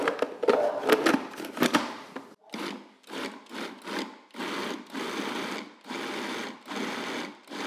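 An overfilled electric vegetable chopper grinding in repeated short bursts, each pulse a loud whirring buzz separated by brief pauses, with no talking.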